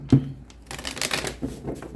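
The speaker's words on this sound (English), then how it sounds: "Okay, 2 more shuffles." Tarot cards being shuffled by hand: a crisp riffle is followed by a longer run of rapid papery flutters, close and fairly quiet.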